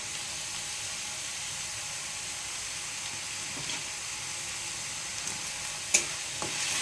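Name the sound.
spice masala frying in oil for chicken curry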